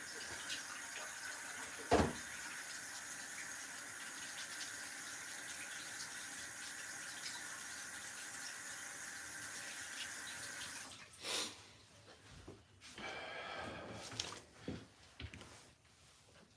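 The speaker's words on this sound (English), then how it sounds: "I need to go wash my hands really quick" Tap water runs steadily at a sink during hand washing in a home kitchen, a continuous near hiss that cuts off partway through, followed by a few splashes and handling noises.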